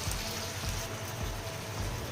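Water from a mixer jar poured into cooking Hyderabadi chicken gravy, a steady close splashing hiss that runs unbroken for a couple of seconds.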